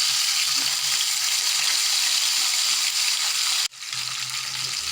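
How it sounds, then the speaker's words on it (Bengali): Fish fries in a pan, a steady bubbling sizzle with a brief bump partway through, then the frying continues just as before. "এদিকে মাছটা আমার ভাজা হচ্ছে"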